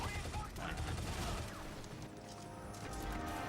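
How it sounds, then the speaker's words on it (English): Gunfire rattles in Shadow Complex Remastered on PC as rapid shots are spammed while the game loads, a dense fusillade of crashing blasts and mechanical clatter that runs steadily throughout. "spam shoot as the game loads in"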